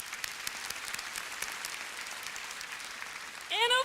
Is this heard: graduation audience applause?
yes